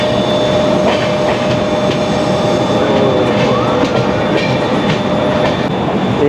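A train pulls into platform one at Haridwar station, a steady loud rumble of wheels on rails with faint squeals and clatter running throughout, with no talk.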